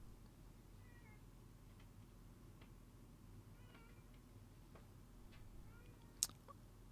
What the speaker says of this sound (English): I think I hear another cat at the door, one of Mama's babies.